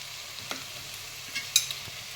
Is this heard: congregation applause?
no